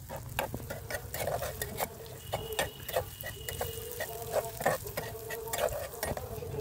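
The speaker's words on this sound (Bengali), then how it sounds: "এবার আমি নাড়িয়ে দেবো।" Cashews and raisins stirred in a frying pan, giving a steady soft sizzle broken by repeated scraping and clicking strokes of the spoon throughout.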